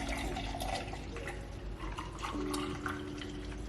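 Pear detox juice pours into a mason jar with a continuous liquid splash and gurgle for a few seconds, close and moderately loud, with no voice over it.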